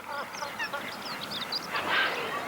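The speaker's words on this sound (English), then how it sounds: "The noisy cormorant colony, where the birds brood together high in the trees, can be heard from a distance." A noisy cormorant colony nesting high in trees in the Sava floodplains of Croatia, with many overlapping harsh calls and croaks blending into a continuous, moderately loud chorus with no voices.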